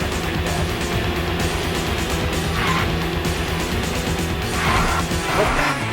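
Engine of a car in a Sega Saturn racing game, a steady, continuous synthetic drone with brief tire-squeal bursts, loud and alone with no talk.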